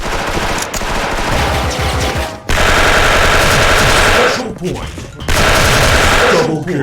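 Rapid full-auto bursts from a Platinum FAMAS 2nd Gen rifle in the online shooter Special Force, loud and close, fired in several long strings separated by brief pauses, with a voice talking faintly underneath.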